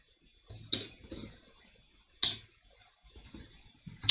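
Keys on a computer keyboard are struck in a few quiet, sparse clicks and short clusters in a hushed room.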